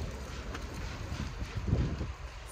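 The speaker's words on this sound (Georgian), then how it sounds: "აი ქარისხმა თუ გესმით." Gusty outdoor wind buffets the microphone with a broad, rough roar that swells around the middle and then eases off. No voices are heard over it.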